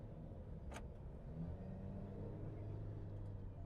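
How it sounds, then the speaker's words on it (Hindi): A 2000cc diesel car on a test drive, heard from inside the cabin with the turbo boosting: a steady low engine drone and road rumble with a faint rising whine. "Good turbo boosting, very good turbo boosting."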